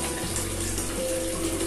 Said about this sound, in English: The water flowing into the bucket.